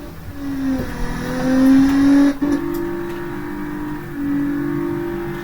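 A car engine revving in the driving game BeamNG.drive, loud and close, rising and falling through several revs with a sharp dip midway before settling into a steady drone.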